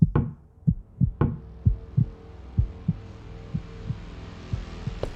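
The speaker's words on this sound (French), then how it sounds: "quand quelqu'un frappe à sa porte." A door is knocked in a repeating pattern of dull, heavy thumps, a low rumbling hum sustaining beneath, the blows continuing at a slow, irregular pace in a quiet space.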